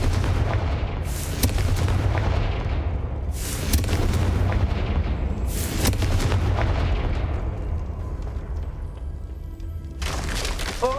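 Fiery Confringo spell blasts in Hogwarts Legacy breaking through a weak floor, heard as a loud continuous rumble broken by four sharp explosive bursts spaced a couple of seconds apart, with no voices.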